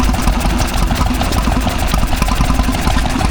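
A Petter oil engine running a water pump at a country show, chugging close and loud with a steady low knocking rhythm under outdoor background noise.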